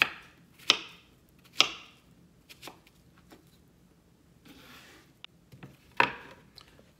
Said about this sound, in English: We're going to cut them in cubes.